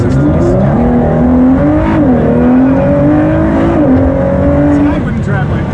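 A 2019 Ford GT accelerates while driving, its engine loud and close with a steady, droning roar whose pitch climbs, dips at the gear changes, and climbs again throughout.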